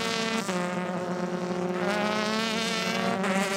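Formula 3 race cars from the Euro Formula Open at Paul Ricard scream down the back straight under full throttle, a loud, steady, high-pitched engine whine that rises in pitch as they accelerate, with a brief dip near the start.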